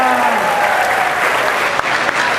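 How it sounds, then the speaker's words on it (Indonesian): An audience at an entrepreneurship seminar bursts into sustained applause, a dense wash of clapping hands throughout, with a voice briefly audible at the start. "Tepuk tangan buat kita semua."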